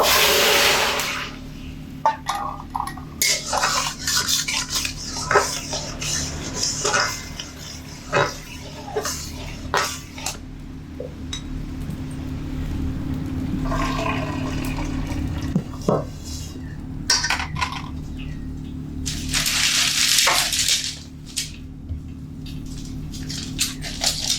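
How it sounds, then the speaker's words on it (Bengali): Running water splashes and patters against a metal wok as it is rinsed and scrubbed, with clattering handling noises over a steady background hum. "কড়াটা একটু ধুয়ে নেব"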